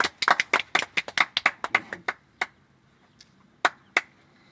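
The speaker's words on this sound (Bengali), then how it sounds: "হাততালি দাও সবাই হাততালি দাও হাততালি হবে" Hand clapping from a small group at a carrom board tournament prize ceremony, a quick burst of claps that thins out into a few scattered last claps, close and fairly crisp.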